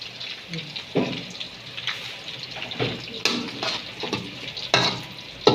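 Chopped onions in about 200 grams of oil, frying for tehari, give a steady close sizzle with bursts of stirring scrapes, and no one talks.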